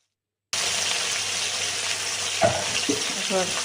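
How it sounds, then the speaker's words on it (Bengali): Ritha sea fish sizzle in hot oil in a pan, a continuous close frying hiss after a brief silent start, with a few clinks and scrapes toward the end. "এইভাবে সব মাছগুলো কিন্তু আমি ভেজে নেব"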